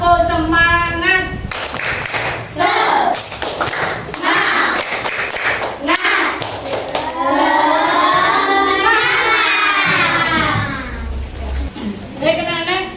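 Classroom of Indonesian schoolchildren doing a rhythmic spirit clap led by their teacher, sharp clustered hand claps mixed with children's voices chanting and calling out, lively and close.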